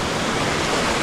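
Steady, dense roar of a waterfall in Baden-Baden, loud and close, a continuous broadband rush with no gaps and no voices.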